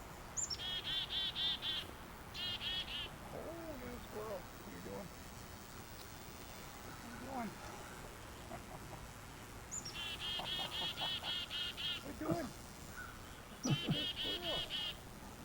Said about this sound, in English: That's a chickadee.